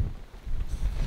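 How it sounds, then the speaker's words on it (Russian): Strong gusting wind buffeting the microphone beside a lake at an autumn carp-fishing camp with a shelter, a continuous low roar that swells louder in the second half. "Феерический ветер."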